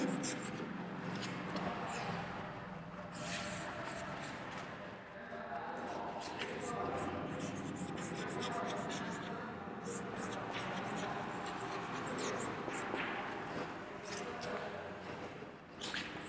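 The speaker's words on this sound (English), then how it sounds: "I will write here transparent" Marker or chalk writing words on a classroom board, with scratchy strokes and taps heard under a teacher's ongoing speech.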